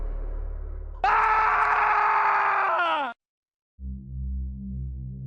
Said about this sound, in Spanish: Un grito desgarrador que identifiqué al instante de un hombre, retumbó en mis oídos